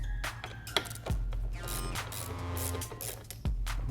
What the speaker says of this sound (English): using a 10mm socket, we will be removing these 2 nuts and also these 2 screws